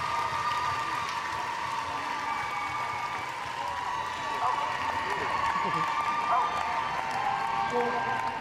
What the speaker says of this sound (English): big cheer from the Scottish supporters for Alan Short and Bruce